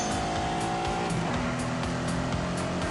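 A Lamborghini Countach with a 5.2-litre V12 in The Grand Tour video game, its engine droning steadily and loudly with tires squealing across the whole stretch, no voices.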